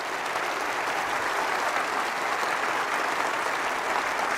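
An audience claps in sustained, dense applause that holds at an even, fairly loud level from start to finish with no voices on top.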